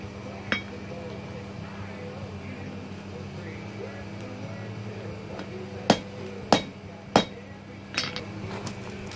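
A blacksmith strikes a hot steel knife blade on an anvil, four or five sharp ringing hammer blows spaced about a second apart near the end, over a steady hum of shop noise.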